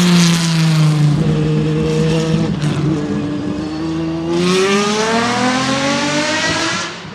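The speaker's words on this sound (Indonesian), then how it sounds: "3 Jaguar XJR9 melintasi garis finish" Jaguar XJR-9 race cars crossing the Le Mans finish line, loud engines revving and roaring past one after another with pitch sweeping up and down, close and continuous.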